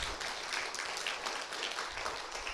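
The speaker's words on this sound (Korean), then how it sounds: "우리 하나님께 박수로 영광 올리겠습니다." Congregation applauding during a church revival service, a steady wash of many hands clapping together, moderately loud and continuous throughout with no talk over it.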